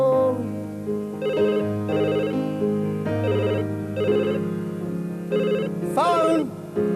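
A telephone rings in a repeating electronic warble, its pulsed tones recurring every second or so over a continuous musical backing and some vocal sounds.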